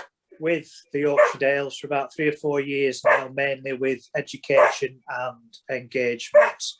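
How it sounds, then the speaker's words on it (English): A pet dog barks and yips in a garden in the background, short sharp bursts scattered under continuous close speech from someone talking throughout. "my dog's in the garden trying to make a nuisance of himself"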